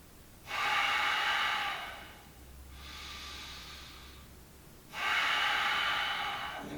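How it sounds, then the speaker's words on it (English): Slow, deep breaths during a gentle floor yoga routine, close and clear: a long airy inhale, a softer exhale, then another strong inhale, unhurried and even, with no talking. "Deep, full breaths."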